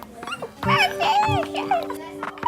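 A child imitates a dog with whiny, yelping barks and whimpers, voiced in quick bursts close to the mic with a faint steady tone underneath.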